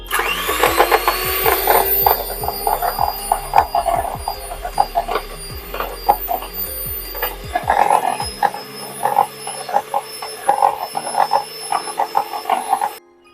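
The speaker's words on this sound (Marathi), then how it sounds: "आता आपल्याला ही दोन ते तीन मिनिटासाठी चांगली व्हीप करून घ्यायची आहे" Cold cream being whipped in a bowl for homemade butterscotch ice cream: a steady whirring churn with rapid rattling clicks runs throughout, close and fairly loud, easing briefly midway.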